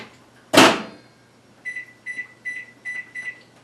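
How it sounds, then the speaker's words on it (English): A microwave door shuts with a clunk, then a series of six short electronic beeps as buttons are pressed, quiet and close. "we're going to put this in the microwave for about 12 minutes"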